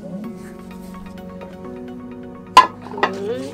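Ceramic plates from a prize set lifted and handled at home, with a couple of sharp clinks standing out over a low steady hum.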